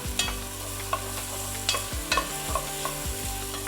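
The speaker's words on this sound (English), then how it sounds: "Then we're gonna throw in that garlic. Quick saute of that." Garlic being stirred and sautéed in a pan for a quick curry, a steady close sizzle with scraping utensil strokes at irregular intervals and no voices.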